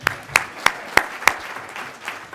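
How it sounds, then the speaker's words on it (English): Audience clapping at a City Club speaking event, starting with five strong, evenly timed claps and then thinning into softer, scattered applause. "We have to clap for him,"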